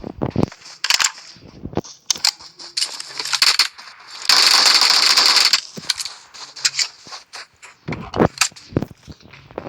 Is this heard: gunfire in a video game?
yes